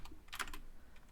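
Quick clatter of computer keyboard keys as a Minecraft /give command is typed, a short burst of close, light clicks with a denser cluster in the middle, no voices.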